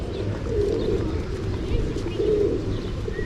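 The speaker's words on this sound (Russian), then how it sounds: "тут куча-куча гулек вот таких. И просто вот на секунду сейчас послушайте" Many pigeons cooing together in a low, continuous murmur in Anapa, with a faint ringing echo and some background voices.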